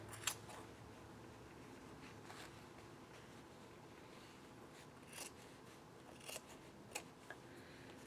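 Scissors trimming the edge of a denim fabric-scrap quilt block, a few soft, sparse snips spread over steady quiet background noise.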